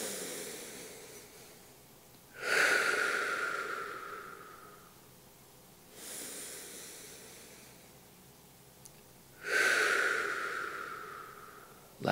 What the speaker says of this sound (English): Inhale through the nose.